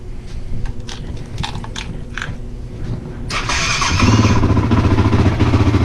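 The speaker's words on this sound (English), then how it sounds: "No choke. Fired right up. It's running a little rough right now." A 2007 Honda TRX 450R ATV engine with a leaky float valve cranks and fires up without choke, then settles into a loud, close, slightly rough running rumble.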